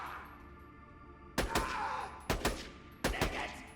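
Vladof sniper rifle fire in Borderlands The Pre-Sequel: three sharp, loud shots spaced about a second apart, each with a short echoing tail, over a faint low background hum.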